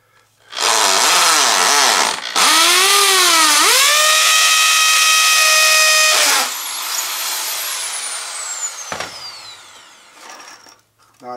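A power drill bores into concrete block with a loud, high, whining scream that rises and falls in pitch as the bit bites, in two long near bursts, then winds down into quieter mechanical noise.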